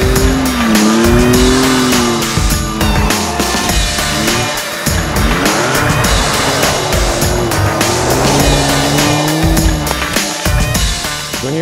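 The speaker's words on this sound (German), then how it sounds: "wir bewegen Porsche auf Schnee und Eis" Porsche cars driven on snow and ice in Lapland, with loud engines revving and rising and falling in pitch alongside repeated tire squeals and skidding, close and continuous.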